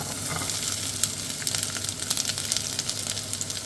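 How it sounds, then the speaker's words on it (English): Onions and garlic sizzle steadily in a pan of hot vegetable oil, a continuous close hiss with small crackles and pops throughout. "I'm going to go into my pan with a little bit of vegetable oil. And then what I'm going to do, I'm going to add the onions and the garlic."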